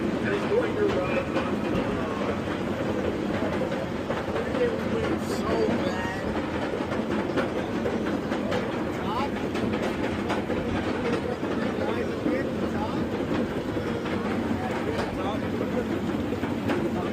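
Thunder Striker roller coaster train at Carowinds rolling along its track, a steady, continuous rumble and rattle heard up close throughout, with voices of riders mixed in.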